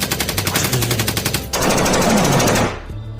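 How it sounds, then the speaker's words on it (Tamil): A toy PUBG-style gun fires a rapid, loud burst of mechanical machine-gun sound effects close by, one fast rattling stream followed by a denser electronic spray that cuts off abruptly. "அப்படியே அந்த பப்ஜி கன்னு நான் சொன்னேன்ல எடுத்து"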